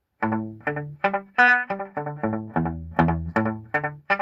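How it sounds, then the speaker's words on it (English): Electric guitar notes run through an Electro-Harmonix Memory Boy analog delay pedal, a steady sequence of about a dozen sustained, rich plucked tones with a single echo bounce, loud and close with no talking. "here is kind of echo sound that we kind of use"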